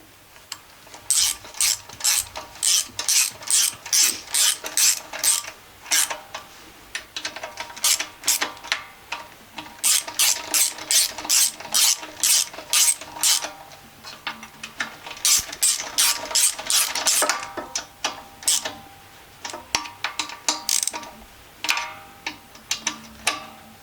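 A ratchet wrench tightens the valve nuts on a Biltema G 2502 gasoline generator, loud close clicking in rapid bursts that repeat again and again with brief pauses between.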